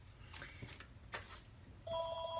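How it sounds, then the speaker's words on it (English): A mobile phone starts ringing during an online card-making class, its electronic ringtone cutting in at the end as a steady bright tone after a few faint clicks and rustles. "Oh, my phone."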